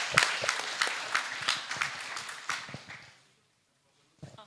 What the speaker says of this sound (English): Can we give one more applause for them?